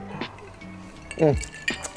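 Glasses clink together in a casual cheers toast among friends, a couple of bright ringing taps heard close amid relaxed conversation and a brief exclamation.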